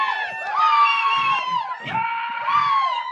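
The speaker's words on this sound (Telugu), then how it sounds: "అప్పటి నుంచి గట్టిగా క్లాప్స్ కొట్టి అరవరేంది మన అనిల్కి." An audience at a film trailer launch event cheers loudly and close by, with sustained high whoops, yells and shouts rising and falling over a dense crowd roar.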